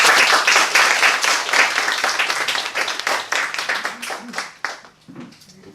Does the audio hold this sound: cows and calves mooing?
no